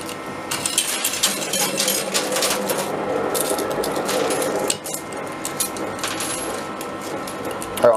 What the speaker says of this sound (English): one coin has just fallen